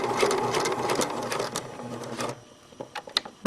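A sewing machine runs steadily while stitching an exposed zipper, a close, busy mechanical whir for about two and a half seconds that then stops, leaving a few soft clicks and taps.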